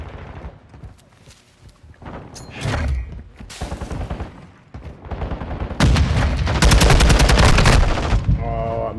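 Gunfire in a military shooter video game with UAVs and portable radar: scattered shots and thuds at first, then a loud, sustained burst of rapid automatic fire up close near the end.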